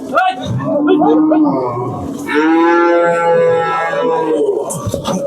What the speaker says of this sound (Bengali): এ পাশে কিন্তু সুন্দর দুইটা গরু নিয়ে গেল ভাই